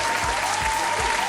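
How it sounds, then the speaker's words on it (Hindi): A studio audience gives dense, steady applause for the winner of a quiz round, a short continuous burst of clapping at even loudness. "तालियां।"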